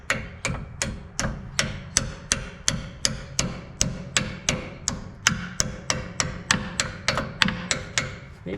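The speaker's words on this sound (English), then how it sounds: "And then it slides over to a point for which we grab a trusty hammer." Hammer blows tapping a part into place on an International 4700 truck during brake work, about twenty sharp, evenly spaced metallic strikes repeating steadily, close and fairly loud with no talking.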